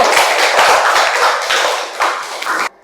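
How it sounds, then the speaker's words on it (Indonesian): Classroom audience applauding group 1 after a presentation, a loud, steady burst of many hands clapping for under three seconds before stopping abruptly. "Beri aplaus untuk kelompok 1"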